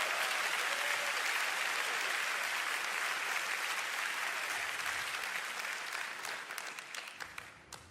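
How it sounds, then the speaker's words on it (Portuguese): Church congregation gives a sustained, dense burst of applause that fills the hall, then thins out and fades toward the end. "Por que você não bate palmas para Noah?"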